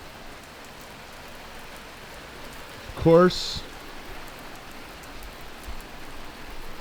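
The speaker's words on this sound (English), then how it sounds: "it started raining." Rain falls steadily outdoors as a soft, even hiss, faint and continuous, briefly interrupted by a short spoken phrase midway.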